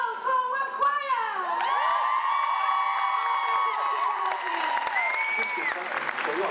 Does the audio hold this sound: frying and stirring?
no